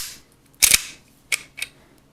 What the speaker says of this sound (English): that holds it open until you pull out the magazine and then the bolt comes forward, like so